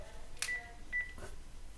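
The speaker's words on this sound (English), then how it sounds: "Don't mind that phone" A telephone behind a screen in a lecture room gives a couple of faint, short electronic beeps over a quiet room hiss.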